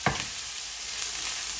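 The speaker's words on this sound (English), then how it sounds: "So now we're going to be going in with our onions and our bell peppers, and we're going to be frying this" Onions and bell peppers frying in a pan over low heat give a short steady sizzle with a brief stirring scrape at the start.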